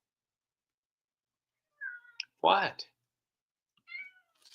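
A cat gives a short, high little meow, then a softer meow follows after a quiet pause. A person briefly speaks just before it.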